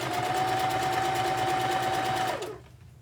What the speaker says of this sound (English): So I'm gonna take this to the machine and I'm gonna do some stitching here.